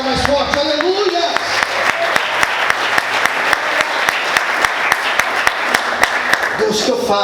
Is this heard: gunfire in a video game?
no